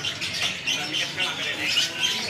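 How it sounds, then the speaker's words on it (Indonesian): A young white starling (jalak putih) at a bird market gives rapid raspy squawks and chirps, close and continuous, with mumbled voices and market noise mixed in. "Jalak putih yang masih anak."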